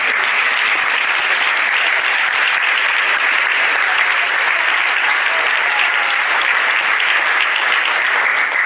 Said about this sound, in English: give you a round of applause as well